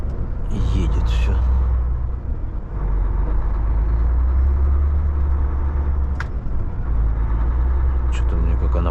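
A loaded Volvo FH 540 truck drives across a frozen river ice crossing, its engine a steady, loud, close low rumble throughout, with someone talking over it now and then.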